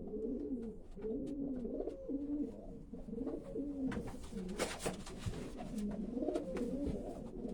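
A racing pigeon cock coos repeatedly in low rolling bursts, close by, with brief scratchy clatter midway and faint wingy rustles around it.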